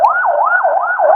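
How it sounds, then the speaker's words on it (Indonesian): An ambulance siren wails in a rising and falling cycle, loud and close, heard alone without talk. "untuk saat ini ambulan kembali datang dari arah lokasi kejadian menuju"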